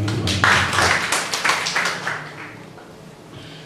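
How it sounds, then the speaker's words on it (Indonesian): Congregation clapping during a Sunday church service, a burst of many hands clapping that builds quickly, then thins and fades over a few seconds. "Tepuk tangan bagi Tuhan."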